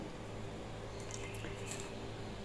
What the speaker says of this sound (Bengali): একটু হলুদ গুঁড়ো দিয়ে মাছটাকে ভালোভাবে মাখিয়ে নেব